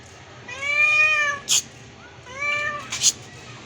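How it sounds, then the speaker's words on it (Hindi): A house cat meows loudly and close by, two drawn-out meows separated by a pause, each followed by a sharp click or rustle, over a low steady background hum. "यहाँ पे एक अदद बिल्ली है घर में जो म्याऊं म्याऊं करती रहती है"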